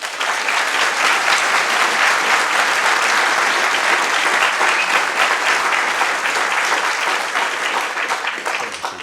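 Sustained, loud audience applause fills the hall after a keynote speaker at a scientific conference is called forward, a dense steady clapping that holds evenly throughout with no talk over it.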